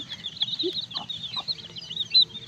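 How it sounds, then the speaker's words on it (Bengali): Young desi chicks (rata murgi) kept on a small farm chirp in a steady high peeping chorus, with a few soft clucks in between, close and moderately loud. "দেখুন আমার মুরগি বাচ্চাগুলো মাসাল্লা করি সবগুলো সুস্থ আছে ভালো আছে"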